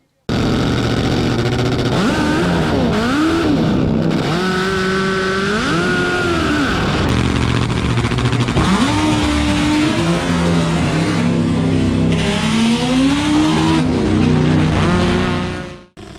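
A Romine Harley drag motorcycle at a Perth drag racing event roars down the strip, engine climbing in pitch through repeated gear shifts, loud and continuous with a commentator talking over it.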